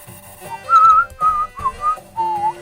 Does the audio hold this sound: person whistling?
yes